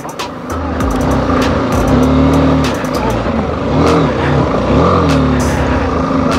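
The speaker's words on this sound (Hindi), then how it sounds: "ये ऑफ रोडिंग है पूरी।" A car drives an off-road forest track in the hills beyond Nainital, with loud, continuous engine drone whose pitch swells and dips as the vehicle labours over rough ground.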